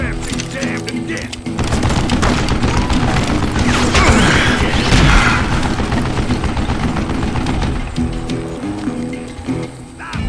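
Mounted machine gun in Call of Juarez: Gunslinger firing long, loud bursts amid clanking mechanisms and crashes, with game music and voices mixed in.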